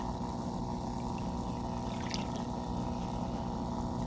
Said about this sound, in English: I'm just pouring it here.